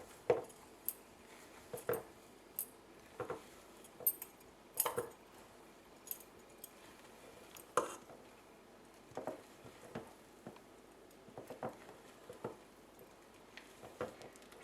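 Chocolate mousse mixture with whipped egg whites being gently folded in a bowl: soft, quiet scrapes and light clinks of a utensil against the bowl, repeating in an irregular rhythm.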